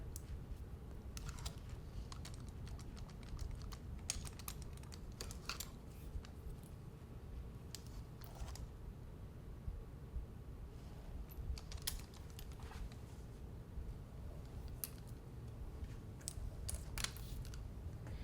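A curling iron clicks open and shut again and again while hair is wound into thermal spiral curls, the sharp close clicks scattered in an uneven rhythm over a steady low hum.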